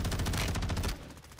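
Rapid bursts of gunfire in a shooter video game, dense and continuous for most of the moment before cutting off sharply, leaving a quieter tail of game ambience.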